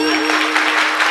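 Listeners at a Marathi kirtan break into brisk, continuous applause, the clapping close and steady, with a sustained tone running underneath.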